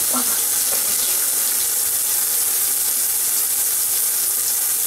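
Water runs steadily from a kitchen tap fitted with an LED faucet attachment, a continuous close hiss of flowing water with no pauses.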